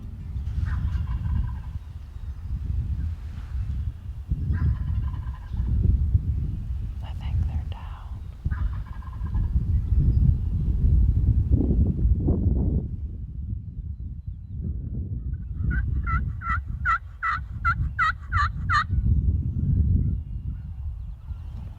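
Wild turkeys call from a field edge on opening morning of a Michigan turkey hunt, with a burst of repeated gobble-like calls in the later part over steady low outdoor rumble and some faint earlier calls.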